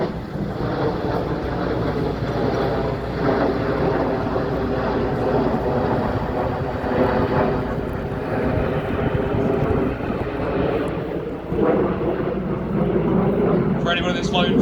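Red Arrows jets fly an aerobatic display at an airshow, their engines a sustained broad distant roar that swells and eases while a commentator talks over it.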